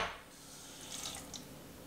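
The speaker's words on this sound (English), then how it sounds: "to take some water, swoosh it around" Hot water swished around inside an ESPRO P1 portable French press, a faint, brief sloshing and rinsing splash at close range with no talking.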